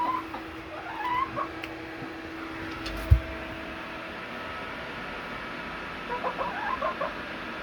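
Backyard chickens in their coop give a few faint, scattered clucks near the start and again near the end, with a single sharp thump in the middle and a low steady hum underneath.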